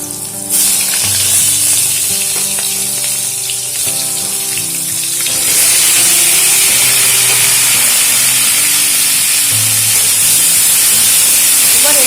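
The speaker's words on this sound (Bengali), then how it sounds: "আলু ভেজে নেওয়ার পর ওই তেলের মধ্যে এবারে কেটে রাখা পটল ভেজে নেব" Sliced pointed gourd drops into hot oil left from frying potatoes and sizzles loudly and steadily. A low hum sits beneath the sizzle, and the hiss swells once the pieces go in.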